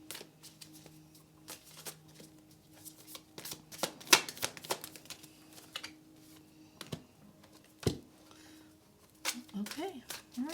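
Tarot cards are shuffled and drawn close up, with rapid riffling bursts, soft flicks and taps of cards laid down in an irregular rhythm, under intermittent speech.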